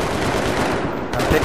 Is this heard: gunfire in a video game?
yes